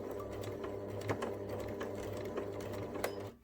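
A sewing machine runs a short burst of reverse stitches at the end of a neck seam on a fabric memory bear, a steady close mechanical whir with light rhythmic ticking that stops abruptly at the end.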